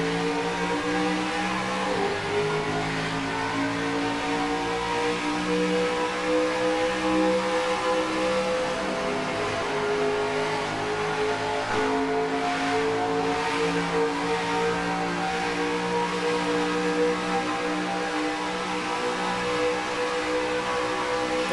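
Stock cars in NASCAR Racing 2003 rolling down the front stretch toward the green flag at SimTel: a loud, continuous drone of multiple engines, pitch shifting as they rev and accelerate together, heard alone without talk.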